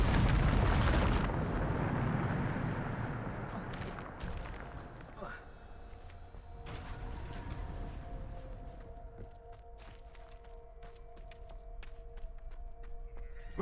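A Bombarda blasting spell explodes in the wizarding video game Hogwarts Legacy, a loud, rumbling burst at the start that fades into debris clatter and quieter ambient game sounds.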